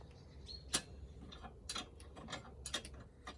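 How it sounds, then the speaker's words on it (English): 10mm wrench slowly turning a bolt turn by turn, quiet close metallic ratcheting clicks and ticks in a few irregular bursts against a faint background. "I will just go at it slowly, turn by turn, with a 10mm wrench."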